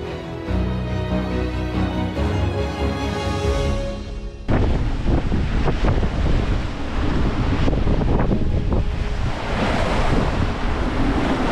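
Ocean waves breaking over a sailboat at sea, first a roaring wash with whistling wind, then a sudden loud crash of water surging into the cockpit and churning on, close and dominating the whole stretch.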